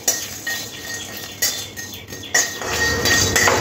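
Whole coriander seeds, dried red chillies, star anise and mace dry-roasting in a dry pan, heard as clinks and scrapes of a spoon against metal, close by, in short bursts over a faint background hiss.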